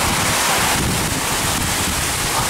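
Strong wind rushes and buffets the microphone while ocean waves churn during a mini supercell storm near Grafton, a loud, unbroken roar.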